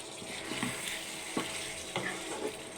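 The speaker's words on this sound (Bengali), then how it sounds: "আমি এখন মাংসটা প্রায় পনেরো মিনিট ধরে কষাবো" Chicken meat fries in a pan, with a steady close sizzling hiss and a few sharp spoon clacks as it is stirred. No talking is heard.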